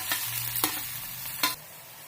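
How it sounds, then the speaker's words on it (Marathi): Onion frying in oil with cumin and mustard seeds for a village-style pavta bean curry, a soft steady sizzle broken by a few brief stirring scrapes, close and alone. "आता त्यामध्ये आपण कांदा टाकूया आणि सोनेरी कलरवर परतून घेऊया।"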